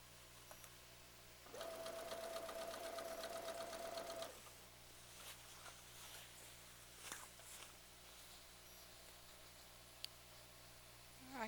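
A sewing machine stitches a quilt row with the needle-down setting, one steady burst of motor hum lasting a few seconds, then quieter handling rustles and faint clicks against a low background hum.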